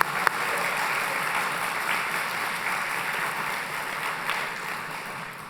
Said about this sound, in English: Let's give one final round of applause for all of our 20 finalists.